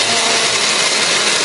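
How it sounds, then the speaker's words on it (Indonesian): A loud, steady motor whine of a blender grinding spices, running continuously at close range, with no pauses or voices. "Pertama-tama kita akan haluskan semua bumbu tadi ya menggunakan blender."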